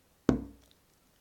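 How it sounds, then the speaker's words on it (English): A single hollow knock that decays quickly, followed a second later by the start of another, close and distinct against a quiet background, used as a tapping sound in a spooky ghost story. "tapping sound."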